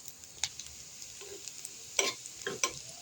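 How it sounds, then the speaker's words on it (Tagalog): Garlic sizzling in hot cooking oil in a frying pan for pork liver adobo: a faint, steady hiss with a few sharp pops and stir scrapes near the end. "ilagay natin yung garlic."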